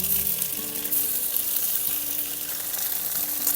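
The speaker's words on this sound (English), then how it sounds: "we get our tofu frying here." Tofu frying in a pan, a steady bright sizzle and crackle of hot oil, close by and continuous, with a faint low hum underneath.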